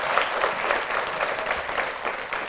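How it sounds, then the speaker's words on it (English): Studio audience applause at a spelling bee show, steady continuous clapping throughout at even loudness, with no talk over it. "Give them a round of applause."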